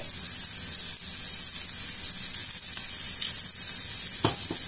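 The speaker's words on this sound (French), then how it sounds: "Et on va aller mettre nos oignons." Onions with a pinch of salt fry in a pan, giving a dense, constant hiss of sizzling oil heard up close, with a couple of brief clicks near the end and no talking.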